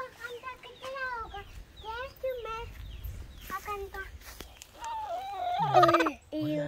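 Several chickens cluck and chatter close by in short harmonic bursts, with a louder squawk near the end; no talking.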